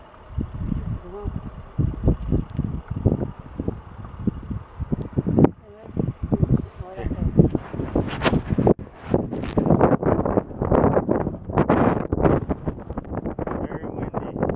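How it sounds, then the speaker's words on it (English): Strong blizzard wind in Trenton, New Jersey buffets the microphone in loud, gusty roars and rumbles, rising harder toward the end, with voices speaking now and then. "Very windy."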